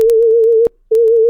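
A loud sine tone from the WaveCraft synthesizer wobbles slightly in pitch, with its frequency modulated by another sine wave. It plays in two segments split by a short silent gap, with faint clicks at the breaks.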